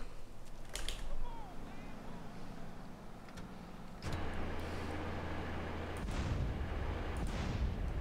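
Rhino tank cannon fire in the video game GTA San Andreas, several sharp booms over a low rumbling engine, one heavy blast midway followed by a louder, thicker rumble.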